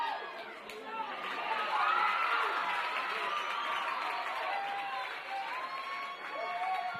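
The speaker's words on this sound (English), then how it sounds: "the crowd is still roaring for those girls" A crowd at a girls' high school lacrosse game between Mountain Crest and Bear River keeps up a continuous roar of cheering and chatter, moderately distant, with a commentator talking over it throughout.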